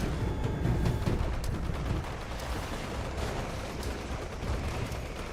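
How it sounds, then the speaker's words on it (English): Explosions and gunfire from a Nasher grenade in the Fallout 76 video game: a dense, continuous rumbling barrage of blasts and shots, loud and steady throughout with no talk. "And then one more grenade. And then some other... the Nasher grenade."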